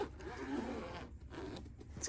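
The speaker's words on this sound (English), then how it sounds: "a two-sided zipper" A two-sided zipper on the case of a Coolify wearable AC is pulled, giving rasping zips in short bursts with brief pauses between them, close and fairly quiet.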